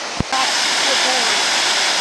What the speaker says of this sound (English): So that's the waterfall I was seeing from the trees.